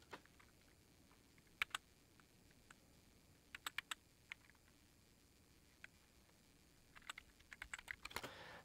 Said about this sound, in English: This is going to be a recording of an old iMac keyboard.